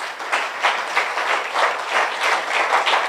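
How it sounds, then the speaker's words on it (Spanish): A church congregation claps together during a Spanish-language worship service, sustained applause with rhythmic swells that stays loud and close throughout, with no talking. "Dale un aplauso al Señor en esta mañana."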